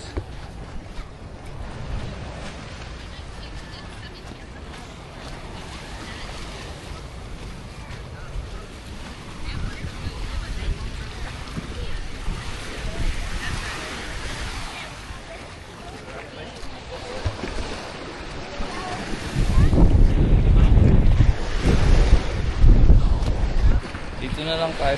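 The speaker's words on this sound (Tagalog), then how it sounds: "Medyo malakas yung alon." Strong waves roll and crash near the shore at Smith Cove in the Cayman Islands, with steady wind buffeting the microphone and a louder surge of surf late on, while people talk.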